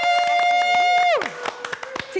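A few people clap by hand in a live TV morning-show studio. The sharp separate claps sit under talk, and a tonal jingle slides down in pitch partway through.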